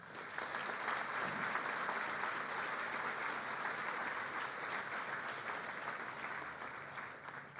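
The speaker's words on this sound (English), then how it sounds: "Graduates, could you please give them a round of applause?" A large crowd at a high school graduation ceremony applauding steadily, continuous dense clapping that holds at an even level throughout, heard from some distance.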